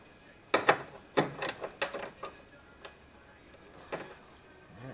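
A small stubby wrench tightens a water pump bolt on a VW MK5 2.5 engine, giving close, crisp ratcheting clicks in quick bursts, then a few sparse, fainter ticks.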